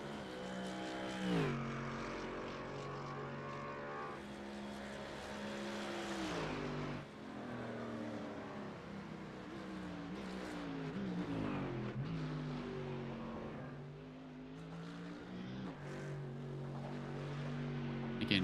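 GT4 race cars lap the Interlagos circuit in an endurance race, their engines whining in layered, rising and falling tones that swell and fade continuously, with no one talking.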